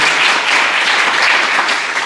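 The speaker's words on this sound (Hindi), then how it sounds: "तो एक दफ़ा भरपूर तालियाँ इनके लिए ज़रूर इसमें होनी चाहिए" Audience applause at a book inauguration and mushaira, the Urdu humor collection Takhleeq-e-Khanda, a dense, steady round of clapping from a crowd, loud and close, with no talk over it across the whole stretch.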